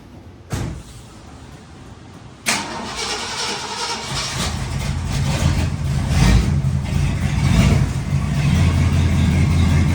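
Ford LTD engine on the way to a muffler shop with a leaky driver's side manifold gasket, a click and thump, then a rising engine rumble that grows louder and rougher as it drives off.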